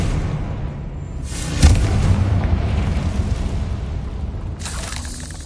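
A Confringo fire spell bursts in the game Hogwarts Legacy, a sharp blast followed by a sustained fiery rumble and crackle over a low game ambience, with a second whooshing flare near the end.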